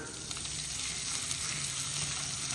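Okra and salt added to hot masala in a frying pan give a steady, close sizzle with faint crackles, continuous and even with no talking.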